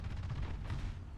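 Tank cannon fire in the War Thunder video game, a dense stream of low booming blasts and rumble running continuously through the clip with no talk over it.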